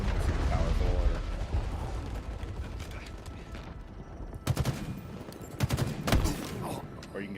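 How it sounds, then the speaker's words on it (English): Gunfire and sniper rifle shots from the Halo Infinite video game, with dense rumbling fire at first and then sharp, loud cracks and bursts, while a player talks throughout. "So I guess the sniper rifles are pretty powerful."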